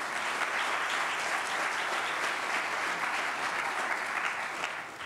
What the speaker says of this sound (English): extra loud applause for these sponsors